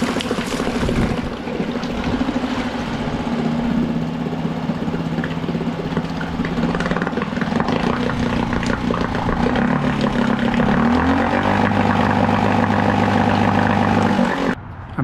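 A small outboard motor on a dinghy runs steadily at close range, its droning hum shifting pitch slightly as it works, with water splashing faintly beneath.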